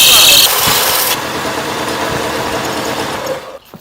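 A belt sander fitted with a new belt runs as a loud, rough, buzzing whir, steady for several seconds before cutting off abruptly near the end.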